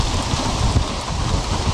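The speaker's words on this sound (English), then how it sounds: "I love the rain." Heavy tropical rainstorm in Florida pouring down steadily at close range, a dense constant hiss of rain with no voices.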